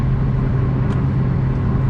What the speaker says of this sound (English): I'm going to pull the truck out of the ditch